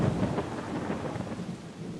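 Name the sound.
thunderstorm with rain falling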